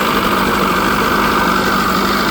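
A 1998 Sea-Doo GTX RFI engine idles at about 1480 rpm, after a flywheel fix, with a steady, loud, continuous drone and rattle that stays unchanged and without talk.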